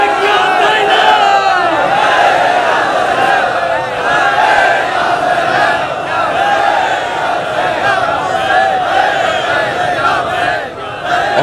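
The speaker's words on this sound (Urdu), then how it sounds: "آپ کے یہ نعرے ادھورے نعرے ہیں، پورا مجمع نہیں پکار رہا" A large crowd at a Shia majlis mourning gathering chants religious slogans in loud, sustained unison, voices overlapping continuously throughout with a brief dip near the end.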